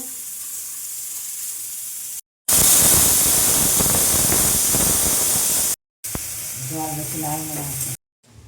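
A pressure cooker boiling bananas in a home kitchen gives off a loud, steady hiss of escaping steam for a few seconds, between quieter stretches of background noise where a voice speaks briefly.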